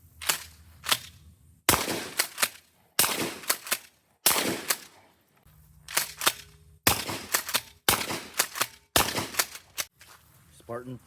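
Shots from a shotgun fitted with a SilencerCo Salvo 12 suppressor at a range: about ten sharp, muffled reports spaced irregularly, some in quick pairs, each trailing a short echo.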